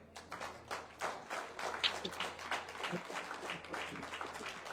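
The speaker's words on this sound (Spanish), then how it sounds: "Un aplauso a Jesucristo" Congregation applauding in a church service, a soft, fairly distant wash of rhythmic clapping sustained throughout with a low hum underneath.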